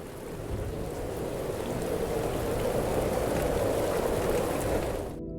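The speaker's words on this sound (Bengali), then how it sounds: "শুরু হলো ঝড় বৃষ্টি" A thunderstorm with heavy rain breaks over an unfamiliar village, a dense, loud roar of downpour with low thunder rumbling beneath, building steadily before cutting off abruptly at the end.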